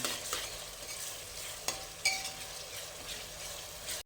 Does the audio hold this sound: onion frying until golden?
yes